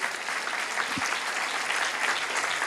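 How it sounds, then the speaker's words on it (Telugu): A church congregation claps loudly, producing a thick, steady roar of hands that holds at even volume from start to finish, with no talking over it. "చప్పట్లు కూడా బిగ్గరగా దేవుని నామాన్ని గణపరచాలి."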